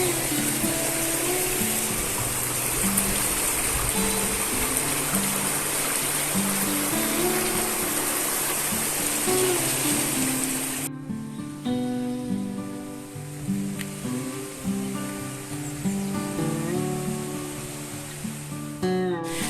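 A river flows along its bank near old mills in the Sierra del Rincón, a constant broadband rush of water; partway through, a soft melodic tone layer joins the steady flow, with no talk.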